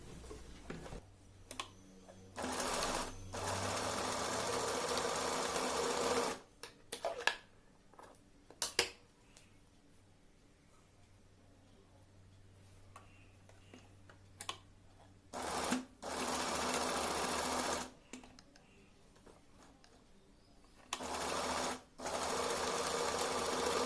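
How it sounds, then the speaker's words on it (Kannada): A sewing machine stitches a fabric waist belt in several bursts of fast, steady whirring, broken by quiet pauses with faint handling sounds, at close range and with no talk. "ಈ ಕಡೆ ಕ್ಲೋಸ್ ಮಾಡಿಕೊಂಡು ಒಂದು ಸ್ಟಿಚ್ಚನ್ನು ಹಾಕ್ಕೊಬಿಡೋಣ."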